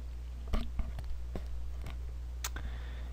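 Sharp computer mouse clicks while software is being installed, a few isolated taps scattered over a steady low hum, close and fairly quiet.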